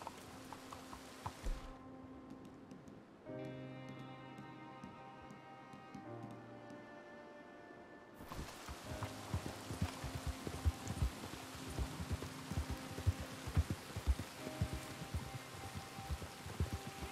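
A horse clip-clops along at a steady pace while being ridden in the video game Red Dead Redemption II, with soft hoofbeats repeating under rain-like ambience and a brief sustained musical tone in the middle.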